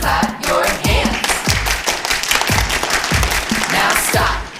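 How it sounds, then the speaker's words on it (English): A church audience claps hands in rhythm along with a worship song, sharp, evenly spaced claps mixed with thumps over music, fairly loud and close. "And everybody clap your hands."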